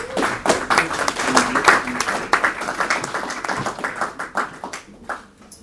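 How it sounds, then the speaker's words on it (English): An audience at a talk on safeguarding applauds Brother Brendan, a dense patter of many hands clapping for several seconds before thinning out and fading. "Let's give a nice applause to the brother Brendan."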